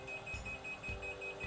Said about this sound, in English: will beep continuously while you're doing it, just to remind you not to drink this water